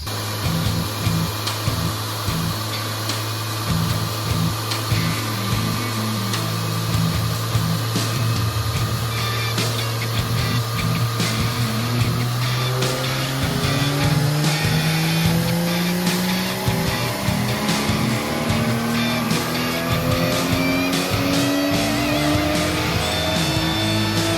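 Toyota JZX90 Chaser on a dyno pulling in fourth gear, its engine note climbing steadily through a long, loud full-throttle run, then dropping back off near the end.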